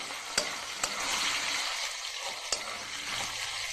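Cabbage frying with tomato in a pan produces a steady sizzle close by, punctuated by a few sharp clicks of a spatula against the pan.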